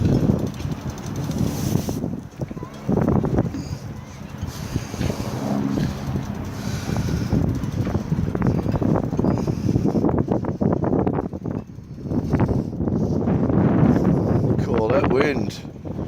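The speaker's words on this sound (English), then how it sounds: "Wind." Wind on a blustery day while someone climbs a sailboat mast toward the spreaders: loud, continuous buffeting rumble and microphone wind noise that surges and eases throughout, with a voice occasionally over it.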